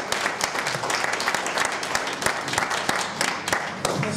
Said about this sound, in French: Acclamez fort pour notre bien-aimé.